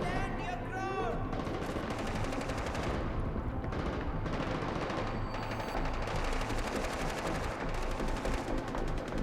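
Gunfire rattles through a Diablo IV game scene in dense, rapid bursts like automatic weapons, continuous and moderately loud, with layered effects beneath.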